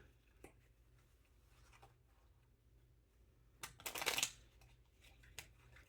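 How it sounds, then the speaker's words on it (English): A brief, crisp riffle of cards near the end, a short burst of shuffling against a quiet room with a few small taps before and after. "when you don't have strong thumbs, shuffling is very, very challenging"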